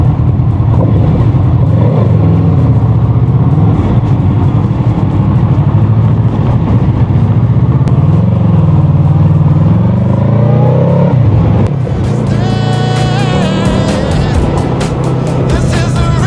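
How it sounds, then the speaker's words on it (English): A motorcycle, just refuelled, pulls away and rides with steady loud engine drone and wind noise throughout, the engine note rising with revving near the end. "Now the bike is fully fueled, ready to roll."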